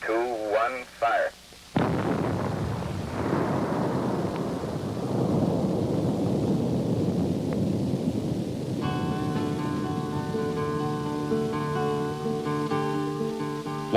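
A mine blast goes off at an open-pit copper mine, a deep sustained rumble rolling on for many seconds with a low, distant roar, preceded by brief radio chatter and later joined by a tonal musical drone.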